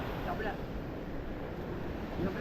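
A steady roar of ocean waves mixed with blustery wind rumble carries on throughout, with no pauses.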